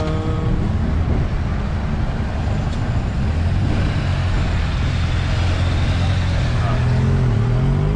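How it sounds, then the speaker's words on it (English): A motorcade of cars passes along a London street near Big Ben, a steady, loud wash of engine and tyre noise with rising and falling vehicle hums as they go by close to the listener. "It's like another motorcade."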